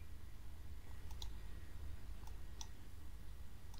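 Faint computer mouse clicks, a handful of small isolated ticks scattered over a quiet steady background hiss.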